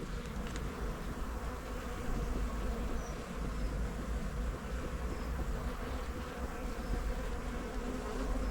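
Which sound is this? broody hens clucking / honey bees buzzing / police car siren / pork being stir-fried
honey bees buzzing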